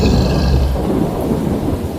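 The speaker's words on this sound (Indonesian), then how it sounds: "Petir menyambar. Hujan deras tiba-tiba mengguyur." Heavy rain pours down under rolling thunder in a dramatic sound effect, a loud, deep rumble that swells at the start and settles into a steady, dense downpour.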